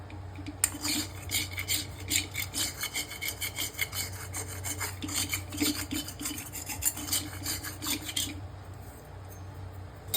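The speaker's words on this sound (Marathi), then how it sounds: "कढईला पीठ राहिलं आहे ते आपल्याला असं कधीतरी काढून घ्यायचं" Flour left stuck in an iron wok being scraped out with a utensil while making chapati dough, a steady run of dense rasping, rubbing strokes close by with no talk.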